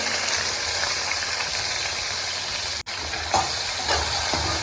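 Long-sliced onions frying in a pan with browned ginger and cumin give a loud, continuous close sizzle with a steady hiss and a brief dropout partway through, then faint stirring clicks.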